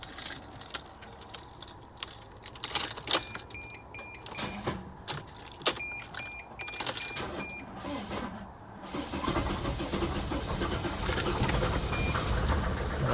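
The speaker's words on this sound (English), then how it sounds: "the next step here is to go ahead and start the engine" A 2001–2006 Mercedes Sprinter T1N van has its keys jangle, then cranks with warning chimes and catches, settling into a steady, rumbling idle close by after a radiator and coolant hose repair.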